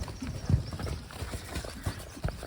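A Suffolk Punch horse's hooves clip-clop at a slow, uneven pace on a hard surface nearby, with a few louder strikes standing out from quieter steps and no talking.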